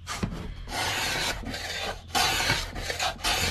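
A block plane shaves a wooden corner to round it, with repeated raspy strokes of steady length broken by short pauses, close and clear with no talking.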